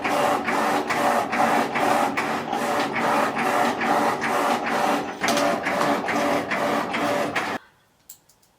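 Vinyl cutting machine slicing silver glitter heat transfer vinyl, a steady loud mechanical whir with rapid rhythmic pulses of the carriage running continuously, then stopping abruptly near the end with a faint click after.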